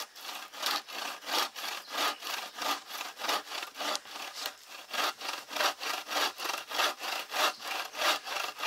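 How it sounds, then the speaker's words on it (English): A bow saw cuts through a piece of sycamore hardwood in a steady back-and-forth rhythm, with about twenty-five rasping strokes close up and nothing else heard. "Let's just cut us a piece of it off and see how the saw does."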